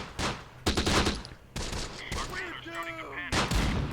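Gunfire in the World War II video game Close Combat: The Bloody First, Sicily campaign: sharp bursts of rifle and machine-gun fire in several volleys, with a whistling, descending tone between them.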